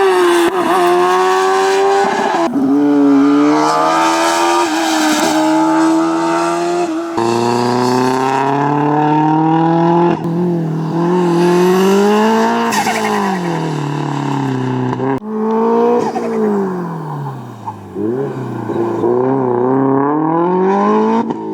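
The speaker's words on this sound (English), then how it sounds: "There's a good mix of cars going on during my rest. From old A86s to built STIs to some open-wheeled racers." Autocross race cars, from old AE86s to built Subaru STIs and open-wheeled racers, rev hard and shift through a course, loud engine tones rising and falling with occasional tire squeal, continuous and close.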